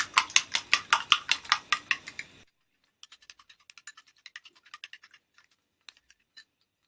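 Eggs are beaten briskly in a bowl, first a quick run of even, loud scraping strokes, then softer, sparser taps after a short pause.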